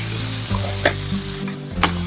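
Chicken qorma masala with turmeric, salt and cumin fries in a pot while a spoon stirs and scrapes, giving a steady close sizzle broken by a few sharp metallic knocks against the pot.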